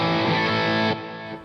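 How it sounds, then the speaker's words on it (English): Electric guitar sent through plate reverb and echo on a UAD console, a sustained distorted chord ringing loudly, then cut off and leaving a softer reverberant tail with faint echo. "On the UAD console, I can simply send out to some reverb here, the plate reverb and the echo"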